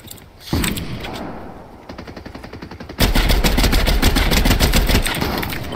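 Rapid automatic gunfire in the video game Fortnite, with bursts of fast repeated shots that build into a loud, dense sustained volley over the last few seconds.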